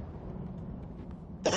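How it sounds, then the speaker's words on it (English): A person lets out a single short, harsh cough near the end, following a stretch of quiet low background hum. "And why are you coughing so much?"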